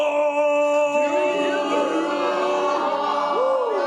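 A comedy show crowd shouting out together, a loud sustained chorus of voices with rising and falling pitch, close and filling the room.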